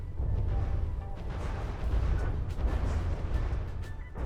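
Frag grenades go off in a shooter video game: rolling low booms and blasts run continuously for a few seconds, loud and heavy, with no voices.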